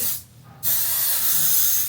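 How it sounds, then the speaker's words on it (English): Oribe anti-humidity hair spray is sprayed over hair in two bursts from an aerosol can, a short hiss, a brief pause, then a longer steady spray lasting over a second, close and loud. "Now I'm spraying a little bit of the Oribe anti-humidity spray all over."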